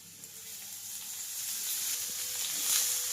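Onions already browned in a pan for a village-style crab curry sizzle with a spoon of freshly added oil, a steady bright hiss that swells slightly toward the end with no talking.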